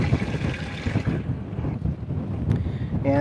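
Wind blows over a bass fishing boat out on the water, a loud, close rumbling buffet across the microphone that eases slightly before gusting again.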